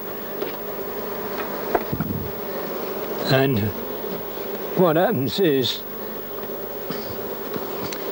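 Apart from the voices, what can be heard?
bees buzzing at a syrup feeder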